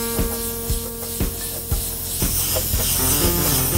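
Spray gun laying down a wet coat of HC 9500 30-minute high-impact clear coat, a steady broad hiss with repeated sharp bursts as the trigger pulses, close and loud with no talk.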